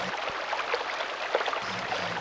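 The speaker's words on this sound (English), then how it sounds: "That's the sound of blood flowing." Sound effect of blood flowing through blood vessels in the human body, a steady rushing, watery whoosh with soft pulsing swells, continuous and moderately quiet throughout.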